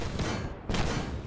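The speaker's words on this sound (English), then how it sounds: "he's probably going to be able to get some shots off on that Abrams" Tank cannon fire in the Armored Warfare video game, with a Leopard tank shooting at an Abrams: dense, continuous booming blasts that stay loud throughout, with a brief dip and then a renewed burst.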